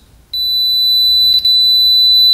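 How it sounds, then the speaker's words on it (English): Continuity tester beeping while checking a dirt bike wiring harness: after a short quiet moment, one loud, steady high-pitched electronic tone holds to the end, with a brief dip partway through. "we've got our continuity tester on"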